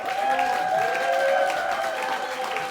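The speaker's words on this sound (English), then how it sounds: "I just insert applause sound right here" An applause sound effect used in a podcast intro about going back to the gym: steady, dense clapping with a cheering crowd quality, held at an even loudness for a few seconds with no talking.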